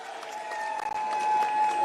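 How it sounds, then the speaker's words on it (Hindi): Audience applause at a political rally in Delhi ripples as a steady, moderately loud wash of clapping from a crowd, with a faint tone and some background voices underneath. "तालियों के साथ एक बारी जोरदार तालियां।"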